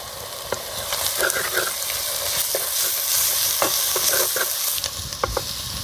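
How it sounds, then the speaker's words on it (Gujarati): Onions frying and sizzling in a pan with spices such as turmeric and Kashmiri red chilli powder, a steady crackling hiss with occasional stirring clicks, close and continuous without speech. "મિત્રો હવે આપણે ડુંગળી જેવી તેવી આપણે કકડવા દેવાની છે"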